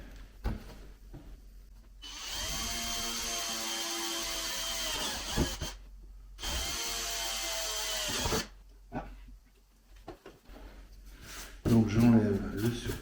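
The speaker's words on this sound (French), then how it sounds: "Je vais prendre une mèche un peu plus grosse" A power drill with a larger bit bores into plastic in two sustained whirring bursts separated by pauses, close and fairly loud, with brief handling noises between.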